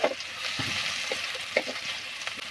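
Onion, ginger and garlic fry and get stirred in a pan, giving a steady moderate sizzle with soft scraping stirs and small pops, and no one speaks.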